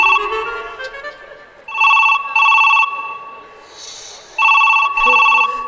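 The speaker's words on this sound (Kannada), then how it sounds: "ಫೋನ್ ಬಂತಕ್ಕ ನಂದೆಯ." A telephone rings in repeated electronic double bursts, loud and close, with a voice talking over the start before the rings take over.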